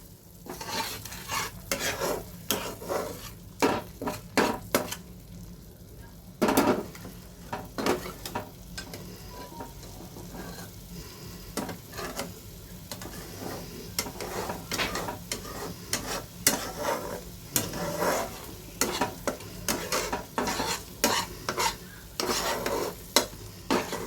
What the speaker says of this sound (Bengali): ভালো করে মশলার সাথে এগুলোকে মিশিয়ে দিলাম।